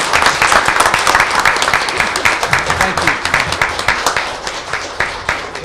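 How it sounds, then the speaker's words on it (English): Audience members at a city council meeting clap together after the Pledge of Allegiance, a steady run of applause with individual claps standing out, fading toward the end. "We can go ahead and clap for him if you want to."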